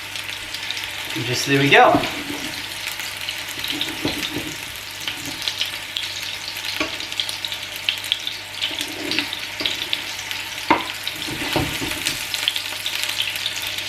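Meatballs fry in a hot pan with a steady, moderately loud sizzle throughout, a few clinks and stirring bumps on top, and a brief spoken remark near the start.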